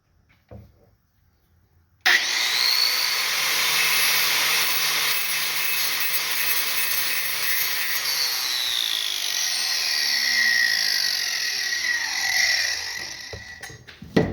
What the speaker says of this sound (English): we'll take a grinder and just kiss these wires right here with the grinder